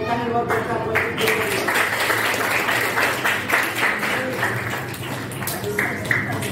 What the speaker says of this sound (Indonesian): tepuk tangan luar biasa buat Ibu